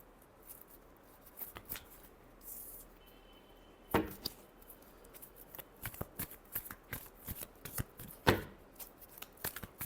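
Tarot cards are shuffled by hand in quick, soft riffles and slaps, with scattered sharper card snaps, fairly quiet and close, with no speech over them.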